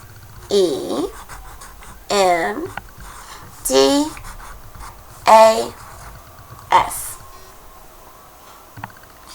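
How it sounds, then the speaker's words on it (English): A pen writes the letters PEMDAS on paper as five separate scratchy, slightly squeaky strokes, each lasting under a second, with short pauses between them and no voices. "the first step that we need to do is write PEMDAS down our paper"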